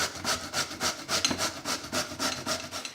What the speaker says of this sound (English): grab your zucchini and just grate